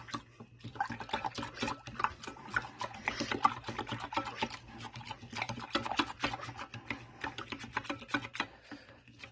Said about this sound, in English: Alright, so I'm just going to whisk it.